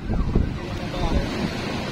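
Sea waves washing ashore along a coast, with steady wind buffeting the microphone; low, continuous rumble of surf with a few stronger swells, no speech.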